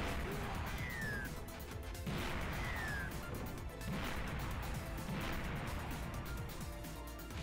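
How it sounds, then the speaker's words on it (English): Repeated booming blasts and crashing impacts from explosions in Streets of Rage Remake roll through a dense, noisy mix, arriving every second or so. "Explosions are so humongous now."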